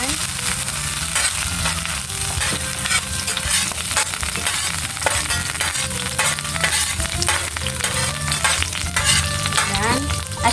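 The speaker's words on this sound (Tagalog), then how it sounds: "magsisimula na po tayong magisa po. Lagay muna yung bawang." Garlic sautés in hot oil for fish sarciado, a loud dense crackling sizzle close by that runs continuously with scraping stirs throughout.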